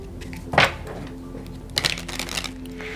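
Tarot cards being shuffled by hand in two short bursts, a sharp riffle near the start and a longer papery flutter later, close up with quiet room tone between.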